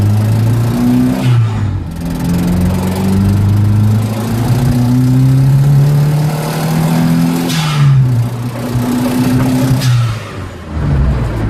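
A carbureted Volvo 140 Turbo coupe engine revs repeatedly, rising and falling in pitch over a steady rumble, loud and close, with short dips between pulls.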